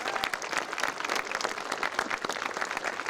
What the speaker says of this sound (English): How about another round of applause for our band for that outstanding start to our ceremony?